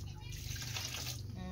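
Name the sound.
water running while washing food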